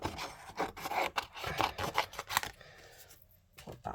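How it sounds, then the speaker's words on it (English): Paper cloud shapes being cut out, giving repeated close rasping snips and rubbing in quick bursts, then a brief pause before a final few cuts. "I'm just going to cut some out."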